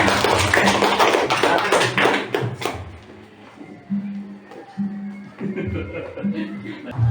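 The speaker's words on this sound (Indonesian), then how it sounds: "Tepuk tangan buat presentasi semuanya" A class applauding after a presentation, dense clapping for about three seconds that fades out, followed by scattered taps and a voice speaking.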